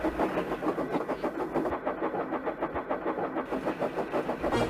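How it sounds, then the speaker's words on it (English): A train rushes closer along the line, a steady loud rumble with a rhythmic pulsing beat of wheels on rail, heard alone without voices. "A train was fast approaching."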